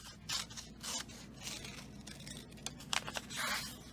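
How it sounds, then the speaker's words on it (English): Scissors snip and rustle through thin book page paper while a heart shape is cut out, a few close, quiet crisp cuts and paper crinkles with no speech. "I cut out a heart shape"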